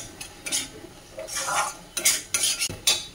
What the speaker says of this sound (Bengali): আবার একটু ভালো করে মশলাটা কষে নেব।